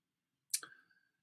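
A single faint mouse click on a web page, a short sharp tick with a brief ringing tail, isolated in near silence.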